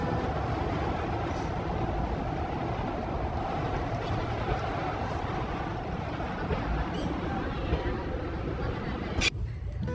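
A small three-coach Indian Railways train near Jhansi runs at about 30 km/h, producing a steady, close rumble and rattle of the carriages throughout. Someone talks over the noise.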